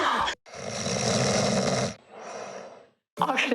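A voice imitates snoring with two long, rasping inhaled snorts, close and loud, with brief vocal sounds at the start and end.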